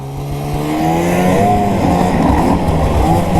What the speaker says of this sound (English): Ignore the sound of carbides running over rocks.